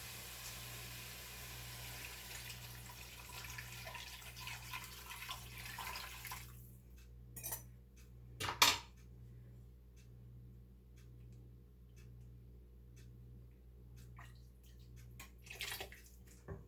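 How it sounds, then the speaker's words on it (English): Warm water mixed with chicken bouillon pours steadily into a soup pot for several seconds, then stops, leaving a quiet kitchen with a few faint clinks and taps. "I'm going to pour this 4 cups in here."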